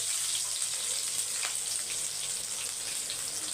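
A whole bulb of garlic fries in hot oil, giving a soft, even sizzle that hisses steadily and fairly quietly throughout with faint crackles and no voices.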